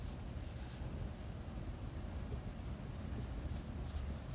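Chalk or marker writing on a board during a university mathematics lecture, a steady faint scratching of strokes in a quiet hall with no talk.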